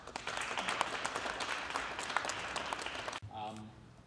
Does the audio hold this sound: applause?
yes